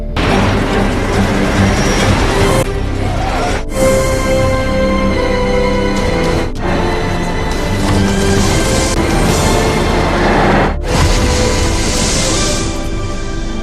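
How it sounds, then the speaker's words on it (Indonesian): Loud booming crashes and explosive blasts erupt in sequence as a bus crashes into a plane and explodes, with sharp cut-offs between bursts and dense rumbling debris noise throughout. "bus tersebut melaju tanpa arah dan meledak menabrak sebuah pesawat"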